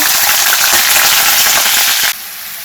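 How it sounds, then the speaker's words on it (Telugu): Raw banana pieces frying in oil with turmeric and salt, a loud, dense, close sizzle that runs unbroken for about two seconds, then drops sharply to a softer hiss. "అయితే అరటికాయ పీసెస్ ఫ్రై చేస్తున్నాను"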